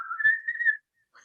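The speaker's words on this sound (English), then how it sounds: "Now, can you whistle" A person whistles one sustained, wavering tone for most of a second, then stops, followed by a faint short sound after a pause.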